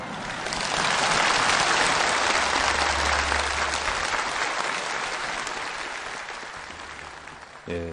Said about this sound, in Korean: 양팀 선수들에게 다시 한번 열광적인 박수를 보내줍시다